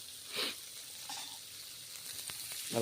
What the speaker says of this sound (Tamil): வெங்காயத்தை வந்து வதக்கிடலாம்